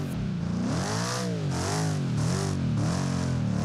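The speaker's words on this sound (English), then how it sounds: "Still Cold's V8 sounds really nice." A V8 drift car engine at a pro-am drift event revs loudly and close, its pitch rising and falling in repeated sweeping surges with a steady rumbling roar throughout.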